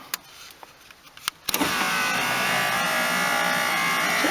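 A Toyota Carina E electric window motor runs continuously after a few faint clicks, a steady whirring drone that starts abruptly and holds at even loudness, no speech over it.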